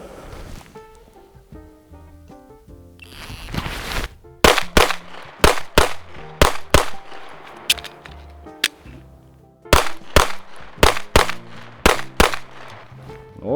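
Pistol shots at a shooting range, two quick strings of sharp, loud cracks fired in rapid rhythm after a quieter stretch of handling noise.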